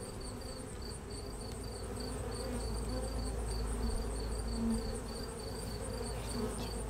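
A large, healthy honeybee colony buzzing in its hive in late season, a steady close hum of many bees with faint pulsing tones over it, no talk.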